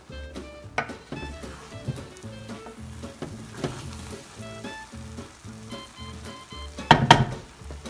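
A spoon stirs freshly cooked chickpea and potato rice in a pot, giving soft repeated scraping and clinking strokes in an irregular rhythm with a faint sizzle beneath and a louder clatter near the end, with no talk.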